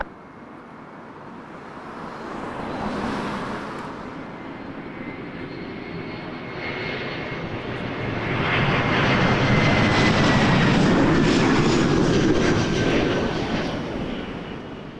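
A fixed-wing airliner lands on runway 24 left at Toronto Pearson Airport at night, its engine roar swelling and holding steady over fifteen seconds, a broad rushing drone heard from moderate distance with no talking.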